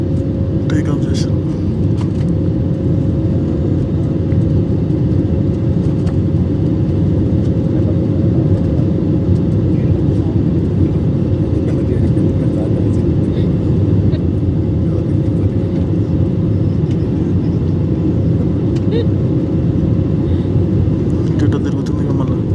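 Steady, loud, low roar of jet engines fills an airliner cabin as it speeds down a short runway for takeoff from Leh on a flight to Delhi. Faint voices sit under the constant rumble.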